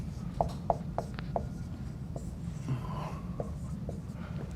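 Chalk or marker writing on a board during a math lecture on series convergence: several short, sharp scratching strokes in a quick, uneven rhythm, close and moderately loud, with no talking.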